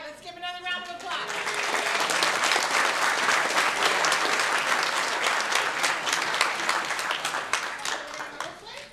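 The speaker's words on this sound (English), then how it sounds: "let's give another round of applause" Audience applause at a Santa Ana city council meeting: a steady, dense wash of many hands clapping that swells after the first second and carries on unbroken, with a faint voice under it at the start.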